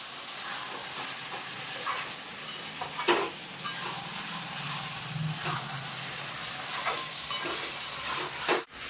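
Chicken and fried potatoes sautéing in a pan for chicken dum biryani, a continuous moderate hiss and sizzle with occasional stirring clinks and scrapes, steady throughout and free of speech.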